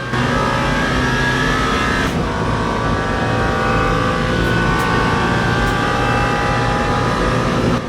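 Hypercars racing on track in the video game Le Mans Ultimate during a 24 Hours of Le Mans event, a constant loud engine drone with revving and passing cars layered throughout, no talk.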